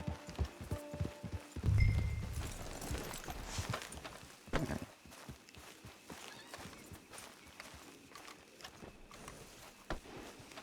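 A horse walking in Red Dead Redemption 2, irregular hoof clops with faint low hum behind, modest level, with a louder thud and some ambient game sounds early on.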